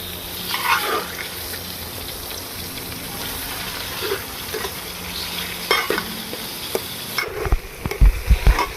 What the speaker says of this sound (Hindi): चिकन हमने अच्छे से फ्राई कर लिया है